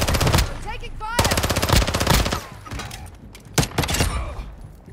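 Rapid machine gun bursts in Call of Duty: Modern Warfare II rattle loud and close in several volleys with short pauses between them, and voices are briefly mixed in.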